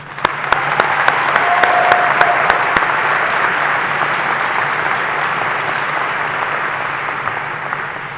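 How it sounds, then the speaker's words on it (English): A high school graduation audience claps at length for student speakers, with a few crisp claps at the start swelling into loud, dense, steady applause that carries on to the end. "Please join me in giving them another round of applause."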